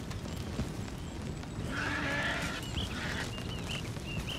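A horse neighs and whinnies in a Red Dead Redemption 2 game scene, heard as a clear mid-length whinny over steady ambient background noise, with faint bird-like calls near the end.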